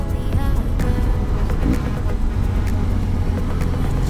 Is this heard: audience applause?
no